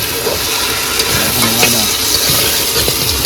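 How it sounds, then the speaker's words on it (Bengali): Fried fish heads are stirred into a simmering curry with new potatoes in a wok, a steady sizzle and hiss with scraping spoon strokes at close range, and light background noise. "এবার ভেজে রাখা মাথাগুলো দিয়ে দিই"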